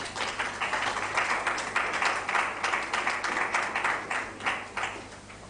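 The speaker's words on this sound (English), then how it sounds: "Please give an applause to Dr. Henry." An academic conference audience claps for an incoming speaker, a continuous wash of applause at moderate distance that slowly thins toward the end.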